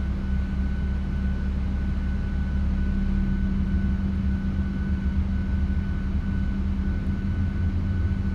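A steady low jet engine rumble with a faint whine from a PMDG 737-800 spooling up in a flight simulator, continuous and even throughout.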